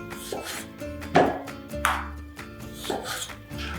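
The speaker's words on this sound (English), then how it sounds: "just a quick rough chop on all of these" Kitchen knife rough-chopping tomatoes and other vegetables for Spanish gazpacho, several separate cutting strokes against a board with short pauses between them, close and moderately loud, no talk.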